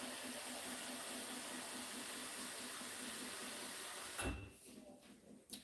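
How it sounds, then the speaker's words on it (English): Water runs steadily from a tap into a container, filling it to 4 cups for yarn dyeing; a quiet, continuous stream that stops abruptly near the end, followed by a couple of soft knocks. "I'm going to fill it up to 4 cups."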